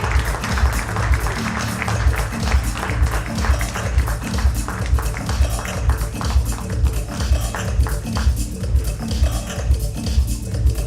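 A function audience applauds the launch of a 25th anniversary souvenir with steady, dense clapping that runs for about ten seconds over a low rhythmic background, loud and close.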